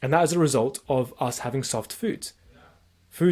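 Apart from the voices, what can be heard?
None of the usual background noises is heard.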